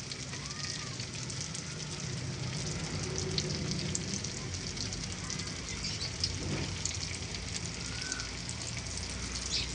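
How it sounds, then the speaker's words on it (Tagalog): Steady crackling sizzle of Lumpiang Shanghai spring rolls frying in hot oil, continuous and close, filling the whole stretch with a dense hiss. "Prito natin sa mainit na mantika."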